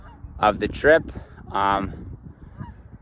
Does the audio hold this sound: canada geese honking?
yes